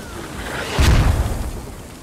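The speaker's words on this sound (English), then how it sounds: "So we are being shelled heavily at the training camp." An artillery shell strikes in the video game Squad, landing during heavy shelling of an insurgent training camp. It is a single mid-distance boom, then a low rumble decaying over about a second.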